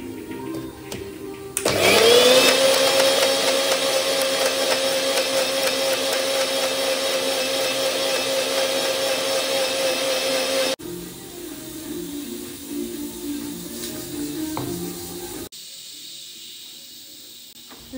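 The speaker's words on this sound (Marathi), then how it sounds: "आणि ना मिक्सरला त्याची प्युरी करून घ्यायची छान।" Kitchen mixer pureeing soaked dates in water, a loud steady whirring drone that starts abruptly, holds for several seconds, then drops to a lower hum before cutting out.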